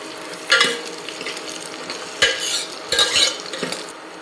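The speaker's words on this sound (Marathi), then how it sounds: "फ्लॉवर तेलामध्ये छान परतून घ्यायचा" Cauliflower sautéing in oil for pav bhaji, a quiet sizzle broken by a few distinct bursts of spatula scraping and stirring against the pan, close and without speech.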